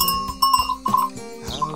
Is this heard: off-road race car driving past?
no